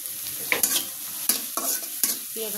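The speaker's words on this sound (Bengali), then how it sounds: "পেঁয়াজটা একটু ভেজে নেব" Onion frying in a pan with a steady sizzle, broken by several sharp scrapes and knocks of a spoon stirring it, close and alone with no talk.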